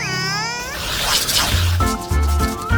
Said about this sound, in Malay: Alangkah cantiknya kucing itu.